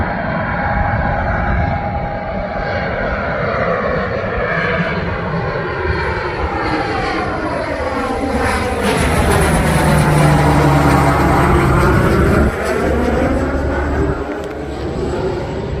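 A fixed-wing airplane flies low overhead beside an airport near a mosque in Orange County, its loud engine roar swelling, sweeping past and fading over about fifteen seconds with no talk.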